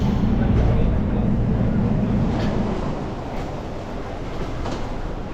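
A Seoul subway train runs with a steady low rumble and rolling rail noise, loud and close at first and easing slightly, with no clear talk.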